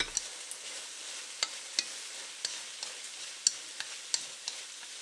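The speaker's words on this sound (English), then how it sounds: "we'll add the green portion of the green onions into the mix and continue to stir fry the" Tomato, egg and green onions stir-fried together for a Chinese fried tomato and egg dish, with a steady sizzling hiss and sharp, irregular scrapes and taps of a utensil stirring through the pan.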